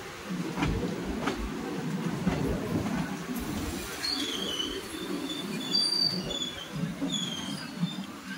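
The crowded Sealdah–Silchar Kanchanjunga Express running, a steady low rumble of the rail cars with faint chirping squeaks and light background chatter from passengers.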